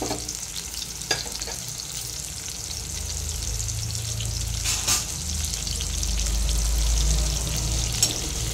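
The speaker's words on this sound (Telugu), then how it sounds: "ఈ బొమ్మిడి చేపలను ఫ్రై చేసుకోవాలి" Bommidi fish frying in hot oil, a steady close sizzle and crackle throughout with occasional sharper pops and a low rumble underneath, no voices.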